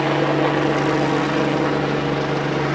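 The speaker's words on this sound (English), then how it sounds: "The helicopter for TV." A TV helicopter flies overhead during a bike race at the Angliru climb in 2008, a steady, droning rotor and engine hum with a constant low tone, fairly loud and unbroken, no talking.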